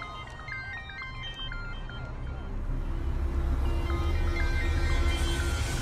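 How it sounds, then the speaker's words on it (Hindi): A phone rings with a repeated electronic chirping tone in a steady rhythm, heard at moderate level over a low background rumble, with no talk. "सर कब से फोन बज रहा है,"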